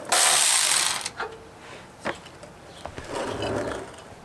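A ratchet works the 14 mm tow hook bolts off a Mazda Miata, starting with a loud rasping whir for about a second, then a few sharp clicks and softer mechanical clatter up close.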